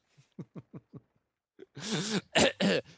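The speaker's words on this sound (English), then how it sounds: "You have a cough?" A person on a sports podcast coughs: several short dry hacks in a row, then a pause and a louder burst of harsh throaty coughs and throat clearing, close to the microphone.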